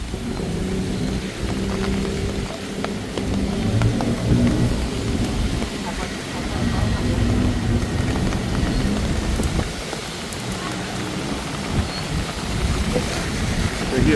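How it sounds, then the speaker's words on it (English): Steady rain falls on a night street during Bangkok's monsoon season, with low thunder rumbling underneath and passing car noise. "It's not raining that hard at the moment, luckily."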